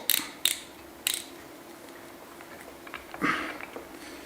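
Solar panel cable connector plug being tightened by hand, several sharp ratcheting clicks close up followed by a softer rustle, otherwise quiet.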